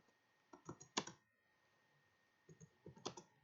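Quiet computer keyboard typing in Microsoft Word, two short bursts of rapid clicking keystrokes separated by a pause, close and faint against a low steady hum.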